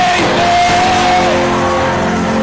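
A church congregation jumps up and screams amen at a prophetic revival service, a loud, sustained wall of shouting and yelling, with steady tones running underneath.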